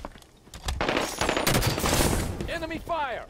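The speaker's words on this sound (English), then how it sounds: "Enemy fire. Enemy fire." Dense rapid gunfire from enemies in the Halo 5 Guardians game crackles in overlapping bursts, loud and close. A voice speaks over the shooting near the end.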